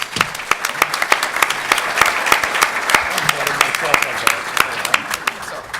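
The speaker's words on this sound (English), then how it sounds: "a big round of applause for Laurence Msall?" A live audience at a public panel on Illinois pensions applauds for Laurence Msall, a dense, steady round of many hands clapping that holds for several seconds at close range.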